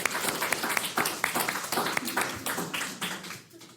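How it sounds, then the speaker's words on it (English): A university religion class applauds a guest professor, a dense burst of many hands clapping close by that fades out near the end. "Everybody give him a round of applause."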